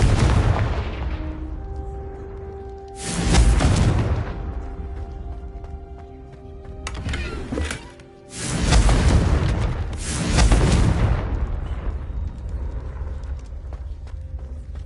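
Confringo blasting spells in Hogwarts Legacy set off several loud booming explosions one after another, each with a sharp crack and a rolling, fading tail. A spoken voice calls out between the blasts.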